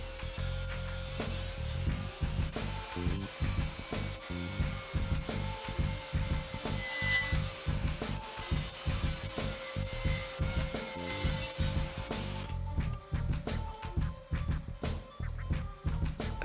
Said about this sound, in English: The acrylic cuts really well on the table saw.